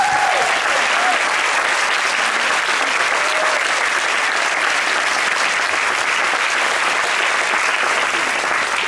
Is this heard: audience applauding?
yes